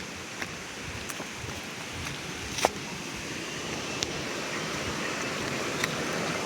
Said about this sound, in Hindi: ये देखो झरणा